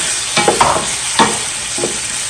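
Tomatoes and coarse salt sauté in a pan for a Jaffna-style chicken curry, a loud continuous sizzle broken by a few close scraping strokes of a spoon stirring.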